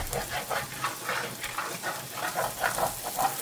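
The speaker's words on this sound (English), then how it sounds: "Now we are just going to cook this, and we're going to scrape up the bottom a little bit." Diced onions cook in a pan with a steady, close sizzle and hiss, while rhythmic scraping strokes across the pan bottom pulse through it at a moderate level.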